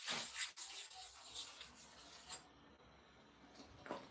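A clipper blade rubbed back and forth on a sharpening stone, a faint scraping rasp in uneven strokes heard up close in a quiet room.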